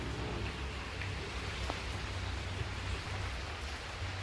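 Steady, heavy rain falls on a farm in a constant, even hiss, with no voices or other distinct sounds standing out.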